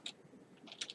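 Keys clatter on a computer keyboard in a quiet room, a few faint quick taps separated by a short pause, then a small cluster of clicks.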